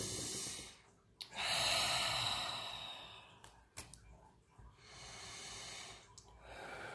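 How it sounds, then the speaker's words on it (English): A person takes a few slow, deep breaths, with long audible inhales and exhales that swell and fade, separated by brief pauses, heard up close. "hold on, let's take a deep breath"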